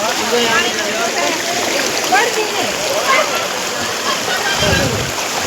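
Stream water rushes and splashes along a rocky climb at the Jatashankar site in Gujarat, a loud, continuous close-up flow throughout, with voices faintly mixed beneath it.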